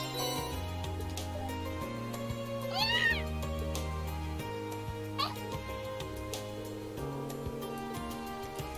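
Cat meowing inside the Trails of Cold Steel video game: two short, rising meows stand out over steady game background music, with no speech alongside.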